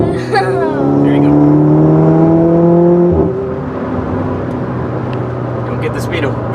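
Volkswagen MK6 GTI with an AWE exhaust accelerating hard, its engine note climbing steadily through a gear, a brief shift, then settling into a steady drone, loud and close from inside the car.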